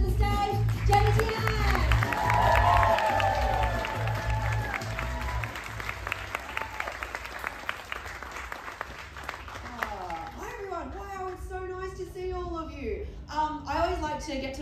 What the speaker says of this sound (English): Can we all start clapping, start cheering,